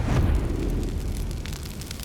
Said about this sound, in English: she threw Terry's body parts in a trash can and lit it on fire